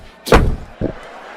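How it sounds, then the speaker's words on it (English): Two car doors shut in quick succession during a police traffic stop, a loud heavy slam followed a moment later by a second, softer thud. "You hear two doors shut."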